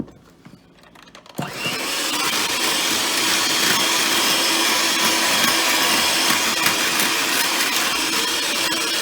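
Electric mixer whirring loudly and steadily through chocolate Swiss roll batter, switching on abruptly after a quiet start and running continuously without talk.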